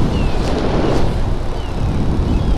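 Steady, loud wind buffeting the microphone while riding an electric unicycle into a headwind on a rough highway at about 35 mph, a continuous roaring rush with no talk.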